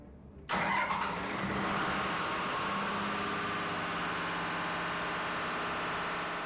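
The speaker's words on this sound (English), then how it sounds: "push the green start button, that'll start the pump up" A fire protection pump engine starts up for a test run, kicking in abruptly after a brief quiet moment and then settling into a steady, loud running drone.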